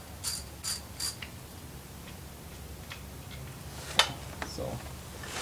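A ratchet backs a bolt out of the Procharger head unit on a 2015+ S550 Mustang, giving a few sparse, sharp clicks at a quiet level, with one crisper click near the end.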